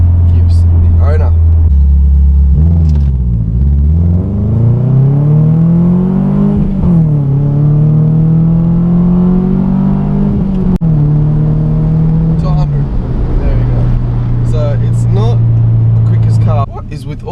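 Engine of a 2003 Subaru Impreza fitted with a loud aftermarket muffler, a deep steady drone that rises and falls with revs, loud and close throughout, with brief higher passing noises over it.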